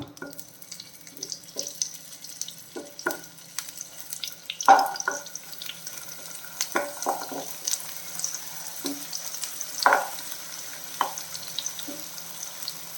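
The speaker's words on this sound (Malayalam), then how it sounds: "നമ്മൾ ചെറുതായിട്ടൊന്ന് ഫ്രൈ ചെയ്തെടുക്കാം പനീർ ഇട്ട് കൊടുക്കാം" Paneer being fried in a pan gives a soft, close sizzle with scattered crackles and a few scraping stirs, with no talk.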